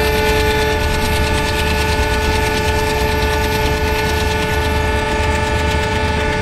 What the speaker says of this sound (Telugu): ఈ ట్రైన్ అయితే ఇంకా దూసుకెళ్ళిపోతుంది